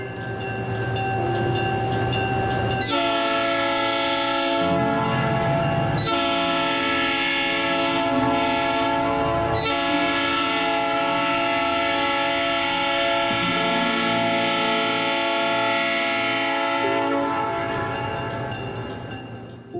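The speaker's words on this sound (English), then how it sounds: "Primary power, especially during the summer months, is SW1500 number 3408, painted in an attractive Missouri Pacific-inspired livery." SW1500 locomotive number 3408, in a Missouri Pacific-inspired livery on a Kansas City short line, sounds its horn in loud, sustained blasts with brief breaks, over a steady engine rumble.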